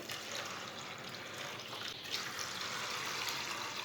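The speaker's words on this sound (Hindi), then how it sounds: "अब कढ़ाई में दाल डाल लेंगे, 3 गिलास पानी डाल लेंगे।" Water being poured into a wok holding chana dal, a soft, continuous splashing and trickling that swells slightly toward the end, heard alone without talk.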